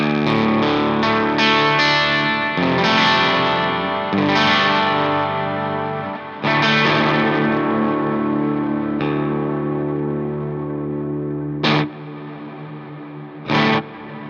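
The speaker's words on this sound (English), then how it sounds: "It's a Big Lush reverb, but I did some tweaking to it, and here's what it sounds like" Electric guitar played through an EHX Oceans Abyss pedal on a tweaked Big Lush reverb, with tremolo ahead of the reverb and an analog delay after, ringing out in sustained, shimmering swells and chords, with two short bright plucked accents near the end.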